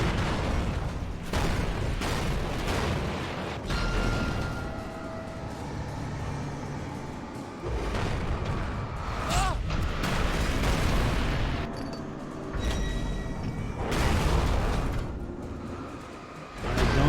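Flashbang grenades go off in the video game Alan Wake: several loud, broadband blasts burst out at irregular intervals over a constant rumbling background, each dying away quickly.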